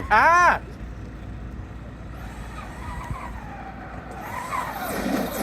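The M2C Mega Creighton race car launches with a loud, rising engine howl that lasts about half a second. It drops to a distant rumble and hiss under crowd noise and voices.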